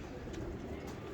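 Fancy pigeons in a breeder's loft give a soft, low coo over steady background noise, faint and continuous with no clear separate calls.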